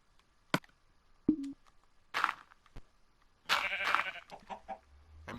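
Sheep in a video game farm let out short synthetic bleats, several separate calls spaced irregularly at a quiet level, mixed with brief clicks and game effects.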